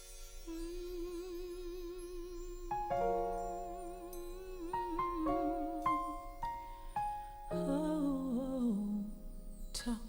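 A piano plays the gospel opening of a song, with sustained chords and a melody moving through several changes over about ten seconds, clear and unaccompanied by speech.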